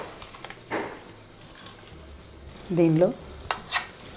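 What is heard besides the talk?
stirring ladoo mixture with sugar powder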